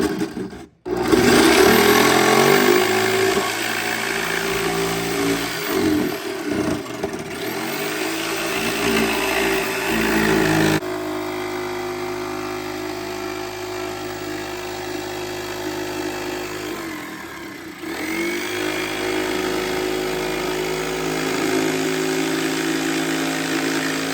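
A power router trims a wooden 10-inch mid bass subwoofer ring with a loud, harsh, whining cut for about ten seconds, then drops to a lower, steadier running hum with a brief dip near the end.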